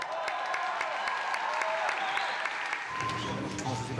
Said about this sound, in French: l'orchestre symphonique présent sur le plateau qui les applaudit à tout rompant